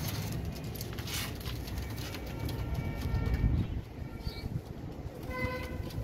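Royal Teddy pigeons in a loft give soft, low cooing over a steady background hum, with a few faint higher chirps from other birds.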